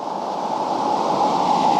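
A creek in Renfrew County, Ontario, running into a small bathing pool, makes a steady, even rush of flowing water throughout, close and moderately loud, with no voices.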